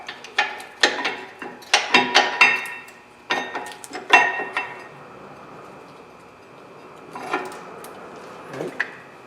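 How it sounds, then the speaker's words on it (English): Metallic clinks and scraping as a rear brake pad is worked out of the caliper bracket on a 2011–2019 Jeep Grand Cherokee, close up, in short bursts, then a quieter stretch with faint handling noises. "Brake pads comes out."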